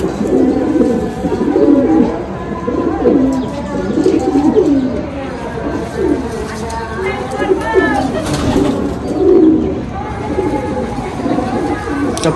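Golden Kamagar pigeons coo repeatedly in a loft, their rolling coos rising and falling and overlapping one another, close and fairly loud, with a few chirps and a low hum of background noise.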